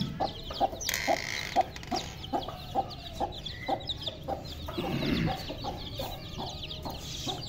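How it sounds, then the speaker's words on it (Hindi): A mother hen in a yard with a brood of around twenty chicks gives a steady run of short, rhythmic clucks to call them, fairly close, with faint peeping and yard noise in the background. "तो देखें, ये मुर्गी उनको बुलाती है।"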